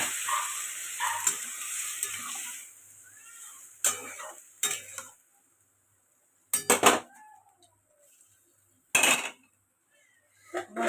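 Water poured into curry frying in a pan, a hiss and sizzle that fades, followed by sparse clinks and scrapes of a utensil against the pan with quiet gaps between.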